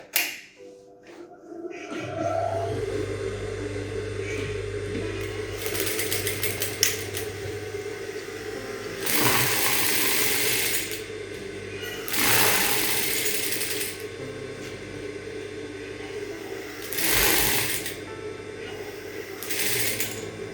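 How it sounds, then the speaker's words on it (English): A sewing machine stitches a seam on a Victorian corset blouse, its motor whirring and needle chattering in several bursts of a few seconds each, with quieter pauses and steady background hum between runs. "I'm going to sew it all the way to the top."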